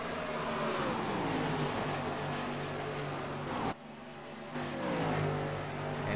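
Xfinity Series stock cars roar around the Indianapolis track, a loud, continuous engine drone with pitch sweeps as cars come out of the final turn, briefly dipping before the pack surges back.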